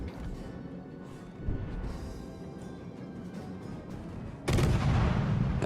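Naval guns firing in a World of Warships: Legends sea battle against the carrier Langley, a rumbling low barrage of booms with a louder heavy salvo near the end, no voices.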